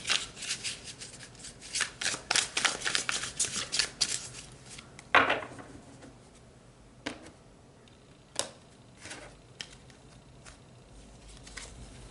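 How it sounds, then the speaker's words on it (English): Tarot cards are shuffled in a quick burst of soft riffling flutters, then single cards are pulled and laid down with a few crisp snaps, close and fairly quiet, with no voice. "Let's pull a few more cards for you"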